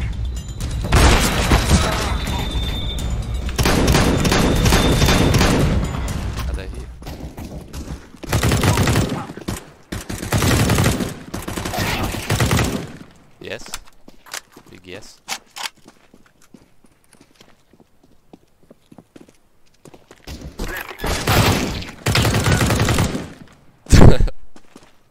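Bursts of rapid automatic gunfire from a CS:GO match, loud and close, coming in several volleys separated by near-silent gaps, with occasional single shots.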